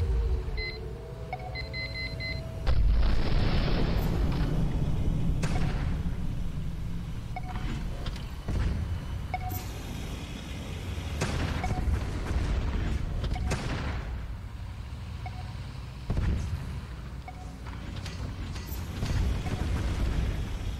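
Heavy booms and blasts from bombs going off in the tank combat game Tank Wars, repeated at irregular intervals over a dense mechanical rumble, with occasional beeps.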